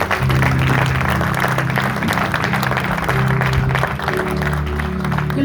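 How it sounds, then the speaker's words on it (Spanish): A church congregation applauds during a prophetic service, steady dense clapping mixed with loud music and crowd noise throughout, without any clear pause. "bríndele un fuerte aplauso al Señor."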